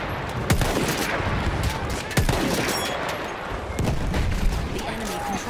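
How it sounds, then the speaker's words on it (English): Gunfire from an enemy machine gun in the video game Battlefield 1 at the Fao Fortress map, with bursts and booms crackling over dense battle noise, and voices in the mix. "Enemy machine gun over there."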